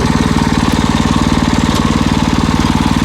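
A Husqvarna TF 230 wheeled cultivator engine runs in second gear at minimum throttle, a loud, close, steady rapid chugging pulse that stays even throughout.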